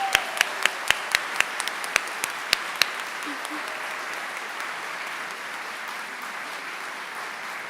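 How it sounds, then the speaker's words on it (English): Applause rings out at an evening Salute to Teachers awards event as the Teachers of the Year finalists stand, opening with a few sharp individual claps before settling into steady, moderately loud clapping from the whole audience. "can you all join me in a big round of applause"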